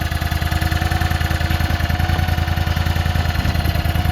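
A 35 horsepower mud boat engine with hydraulic trim on its outdrive runs steadily, a loud, close, rapidly pulsing mechanical drone with no talk.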